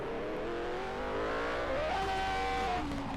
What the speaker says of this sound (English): Having a bit of difficulty getting out of the pit lane here.